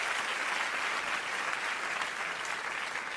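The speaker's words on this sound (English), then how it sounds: "Wait, why is everybody clapping?" An audience bursts into sustained, even clapping throughout a Swan Lake ballet performance, a dense steady wash of many hands at moderate distance with no break.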